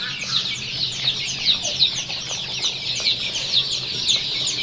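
A flock of chicks and hens at a poultry farm selling tiger, deshi and layer chicks, with a dense, continuous chorus of high peeping and clucking close by. A low background hum runs underneath and no one speaks.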